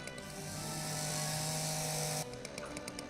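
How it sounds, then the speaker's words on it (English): A chainsaw in Dinosaur Fossil Hunter cuts through a tree trunk lying across a road, a loud continuous buzzing drone for about two seconds that cuts off abruptly, followed by a few light mechanical clicks. "use your chainsaw to remove the tree trunk from the road"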